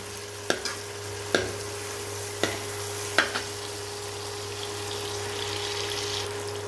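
Onion, ginger and tomato masala stirred and fried in a pan, a steady background sizzle punctuated by four sharp spoon knocks against the pan, with a constant low hum beneath.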